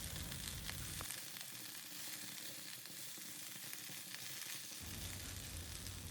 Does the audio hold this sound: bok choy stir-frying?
yes